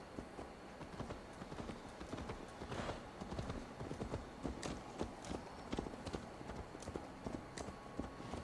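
Rapid clip-clop of horse hooves in Assassin's Creed Valhalla, steady and rhythmic, fairly close, continuing throughout without speech.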